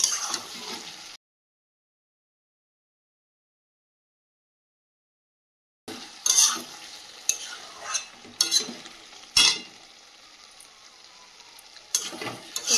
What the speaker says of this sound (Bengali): মাংসটা কষাতে কষাতে তেলটাও ছেড়ে দিয়েছে খুব সুন্দরভাবে